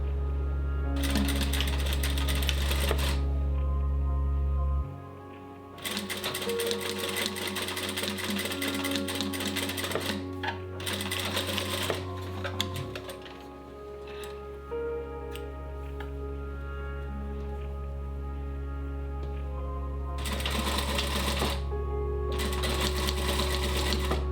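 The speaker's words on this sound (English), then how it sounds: "Now sew 4 small half-square triangles in your contrast fabric to 4 triangle sets as shown here." A sewing machine stitching fabric for a Christmas stocking runs in loud, rapid bursts with a steady motor hum and rattling needle, pausing briefly between seams.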